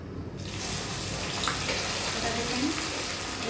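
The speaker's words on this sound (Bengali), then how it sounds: "এটা দেখেন এভাবে গরম করে দেব। কিছুক্ষণ ভেজে নেব।" Masoor lentils hit a hot pan and a loud, dense sizzle starts, spreading into an even crackling hiss that carries on close and steady, with faint sounds from the kitchen underneath.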